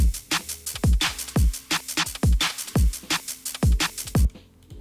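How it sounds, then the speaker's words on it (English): A full uplifting drum and bass kit produced in Ableton plays punchy booming kicks and snappy snares under a simple hi-hat loop, in a fast, driving groove that cuts off cleanly at the end. "So altogether, drums sound like this."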